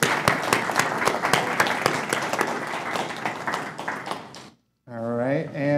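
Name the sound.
audience applause for the conference organizer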